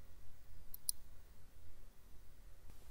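A mouse clicks in a game menu, two quick, faint taps close together over quiet room noise, with a softer tick near the end.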